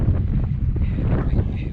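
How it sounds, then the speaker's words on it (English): Strong summer wind on a hilltop campsite after a long hike, a steady low roar buffeting the microphone throughout, loud and close. "Especially it's so windy in the summer."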